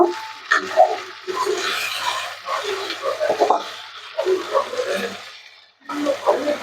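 Tomatoes frying and being stirred in a pan for a fish egg bhurji, a soft steady sizzle with scraping stir strokes, under someone talking throughout.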